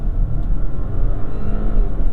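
An Audi Q7 SUV with a four-cylinder engine accelerating hard at full throttle from a brake-held launch, heard as a steady, loud engine drone and rumble throughout with no talking.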